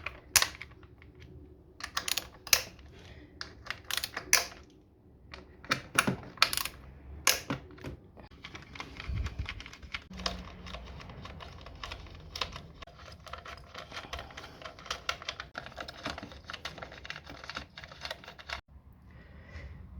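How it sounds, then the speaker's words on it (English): A hand ratchet with an 8mm socket clicks rapidly on a Mazda MX5 engine, close and quiet, in short bursts early on and then a longer steady run of fine clicks. "Then we take our 8mm socket wrench."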